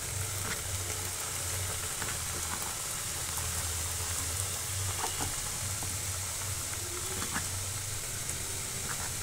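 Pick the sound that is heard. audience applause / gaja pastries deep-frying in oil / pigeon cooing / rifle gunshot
gaja pastries deep-frying in oil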